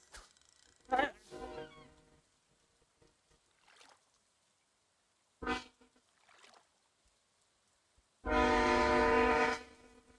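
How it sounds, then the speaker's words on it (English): A train horn from the Stardew Valley farming game sounds in short bursts, then one long loud blast near the end, with quieter game noise between the blasts. "Now the train's gone by."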